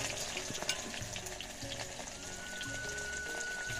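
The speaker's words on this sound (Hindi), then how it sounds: "अब मैं इसमें जो कटी वाली प्याज डाल रही हूँ" Chopped onions frying in hot oil in a pan at an outdoor cooking setup, a steady close sizzle and crackle with occasional stirring clinks, no talking.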